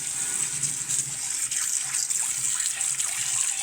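Running tap water splashes steadily over the handle of a steel wok held under the faucet, a close, continuous hissing stream with slight shifts as the handle moves through it.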